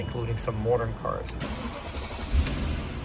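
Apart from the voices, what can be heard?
BMW 740iL E38 engine cold start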